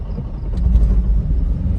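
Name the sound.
Toyota Prius starting to move, loud noise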